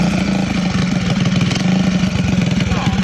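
A small engine on a 1971 Go Devil Model 104 mini bike sputters and chugs in rapid, loud firing pulses as it is push started, close by.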